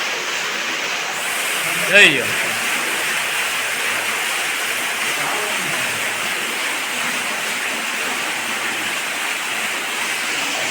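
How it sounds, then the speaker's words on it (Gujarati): Water from a newly drilled farm borewell gushes out in a loud, steady rushing roar that lasts throughout, with someone briefly speaking over it early on. "જોરદાર આવે કોઈ પાણી, જો"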